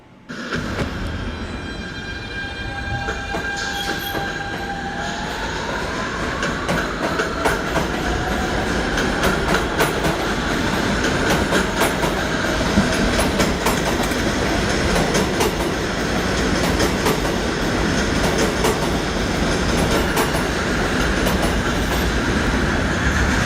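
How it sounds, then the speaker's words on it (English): R160B New York subway train sound in a Minecraft world, a steady loud rumbling roll with clickety-clack and a rising electric motor whine early on, continuous throughout with no talking. "I'll play the sound here for the R160B that I use on this D line"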